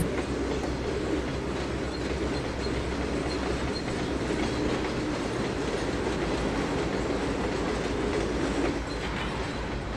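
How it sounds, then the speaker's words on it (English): Long freight train with a caboose rolling past in the Trainz 2022 railroad simulator, a continuous steady rumble with faint clickety-clack of wheels over rail joints, heard alone at a moderate distance. "Still see the train going by there in the background."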